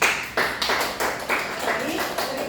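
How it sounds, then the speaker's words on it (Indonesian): Classmates clap for a group presentation in a classroom, a short, dense burst of applause that rises and falls in several waves, close and fairly loud. "Tepuk tangan."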